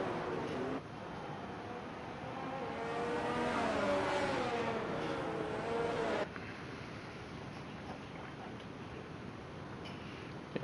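Sim racing race cars on a formation lap of the Singapore Grand Prix, a steady engine drone that rises and sways in pitch for several seconds, then settles into a lower, quieter rumble.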